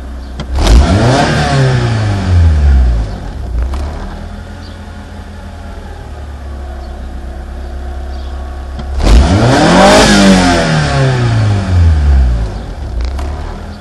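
A 1992 Honda Prelude with a swapped JDM H22A engine idles unevenly, its pitch surging from about 1,000 to almost 1,200 RPM and falling back twice, a loping rise and drop close by.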